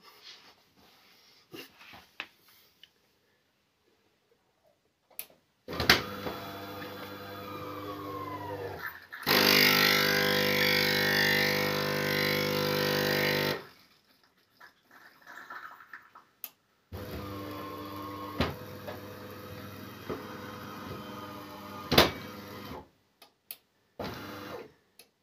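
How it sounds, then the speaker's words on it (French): DeLonghi ESAM04.110 automatic coffee machine shutting down, with bursts of internal mechanical whirring and a loud sustained grinding-flush run in the middle, then quieter clicks and motor sounds before falling silent. "Maintenant, je vais l'éteindre la machine"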